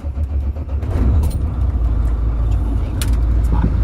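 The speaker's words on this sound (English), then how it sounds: "and I'm going to start up my truck." A Class A commercial truck's engine turns over and settles into a loud, steady diesel rumble close by inside the cab, with a brief hiss and clatter riding on top.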